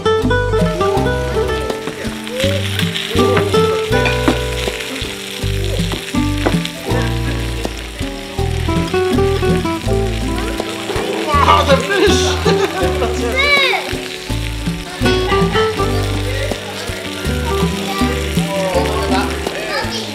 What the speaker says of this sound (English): Look at this thing, it's sizzling on the table.